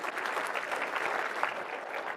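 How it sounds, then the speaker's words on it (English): Luncheon audience applauding the staff, a dense steady wash of many hands clapping close by from start to finish, with no voices standing out. "Round of applause for the staff here."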